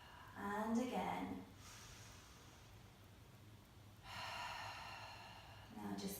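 A slow yoga breath exhaled through the mouth, a soft airy whoosh that rises and fades, followed after a quiet gap by another long breath, close and gentle.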